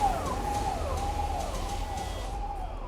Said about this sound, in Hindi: यहाँ पर बहुत सारी गाड़ियां जा रही हैं, सायरन की आवाज आ रही थी।